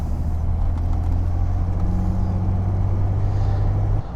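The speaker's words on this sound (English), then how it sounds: "let's pull out into traffic here on the main road" Classic Jaguar XJ6 pulling out onto a main road, a steady low engine drone with a firm rumble held at constant loudness throughout, cutting off abruptly at the very end, no voices.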